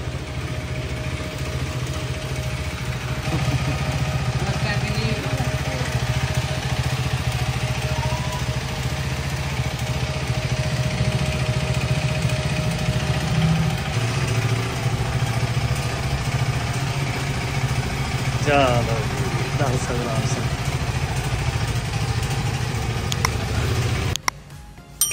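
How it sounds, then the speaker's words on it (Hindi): A new motorcycle idles steadily nearby, a low continuous engine rumble carrying on throughout with a brief higher chirp partway through, and no talking. "आ गया करण सिंह बाइक लेके। नई बाइक का वेलकम किया जाए।"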